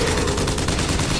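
A rapid burst of gunfire from a possessed enemy shooting the Patriot in Bioshock Infinite, a dense, loud rattle of shots lasting about a second.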